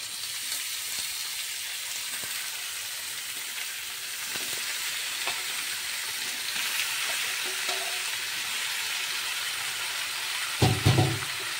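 Chicken pieces sizzle and fry steadily in a wok with browned onions, a constant hissing crackle throughout, with a brief louder clatter of stirring near the end.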